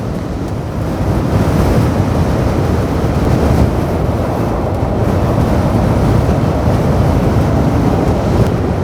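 Strong wind roars across a beach resort in Sarangani, a heavy, continuous rumble with surf-like buffeting against the microphone, no voices over it.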